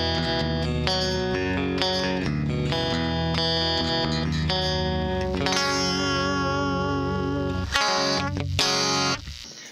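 A clean 1980s-style electric guitar runs through an Axe-Fx modeled Soldano X88R clean channel, playing chords and lines with chorus, echo and reverb shimmer, loud and continuous with no voices.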